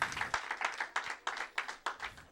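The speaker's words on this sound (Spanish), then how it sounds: "Den una ofrenda de palmas al Señor y puede tomar su asiento." Church congregation clapping in a short burst of rhythmic, fairly faint handclaps in a rough steady beat.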